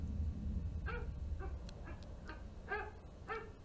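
An AI assistant imitating a dog, producing a handful of short synthetic yips and barks spaced irregularly, faint over low background hum.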